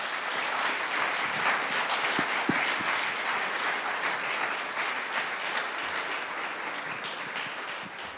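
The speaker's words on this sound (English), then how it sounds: "Let's give them a round of applause." Audience applause at a regional celebration gathering, dense and sustained clapping from a sizeable crowd that holds fairly loud throughout, with a few sharper individual claps near the middle and no talk over it.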